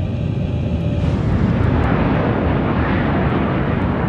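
DHL cargo plane climbing north over the Alps: a steady, loud broadband roar of jet engines, continuous and unbroken throughout with no talk.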